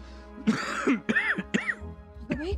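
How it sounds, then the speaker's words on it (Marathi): A man with a fever coughs and clears his throat in a few rough, separate bursts, close and distinct, with no talk over them. "खोकला?"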